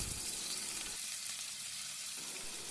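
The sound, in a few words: chicken pieces frying in hot oil in a pan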